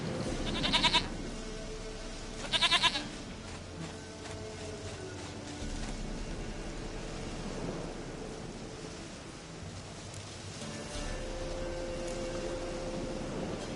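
Two short, distinct goat bleats ring out early, set against a low background of rain and thunder rumble that continues after the calls.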